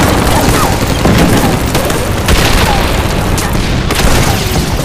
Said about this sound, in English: Explosions and shell bursts illuminate the battlefield.